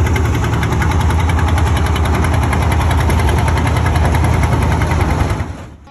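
A trawler ferry's engine runs at dusk at a river crossing ghat in Jhalokathi, a loud, close, steady throbbing drone that knocks rhythmically throughout before dropping away sharply at the very end.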